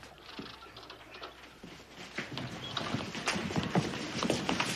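Hooves clip-clop on a hard surface in an uneven trot, growing louder as the horse approaches.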